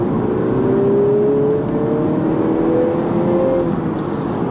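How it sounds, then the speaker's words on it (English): A 2016 Mini John Cooper Works F56 accelerates on the road, its engine note rising steadily as it pulls, heard loud and close from the cabin under a broad roar of road and wind noise. "There's a very purposeful note comes from under that bonnet"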